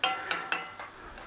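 Red onions being turned over in a pan on a low flame, giving a few light scrapes and clinks of a utensil against the pan, three sharper taps near the start and then quieter contact, with no talking.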